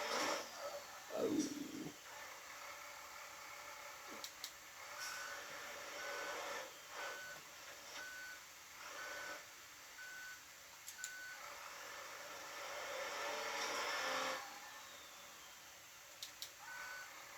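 Faint, evenly spaced electronic reversing beeps from a truck backing up, repeating in a steady pattern over a low hiss and occasional rumbling noises, with no talking.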